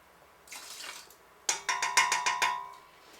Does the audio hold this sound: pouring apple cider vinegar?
yes